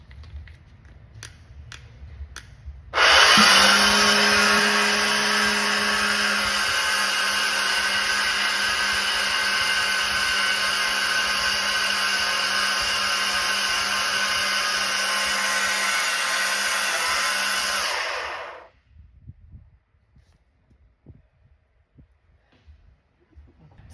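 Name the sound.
blender mixing hair growth serum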